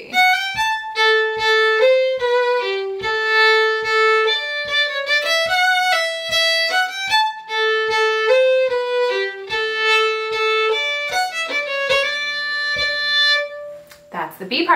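A solo fiddle plays the B part of a Scottish march at a steady marching pace, with clear bowed notes, some held and some short, accompanied by regular foot taps, then a brief noisy rustle at the end.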